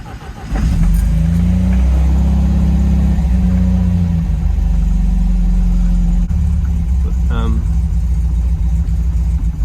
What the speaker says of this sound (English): and then it's about starting the car.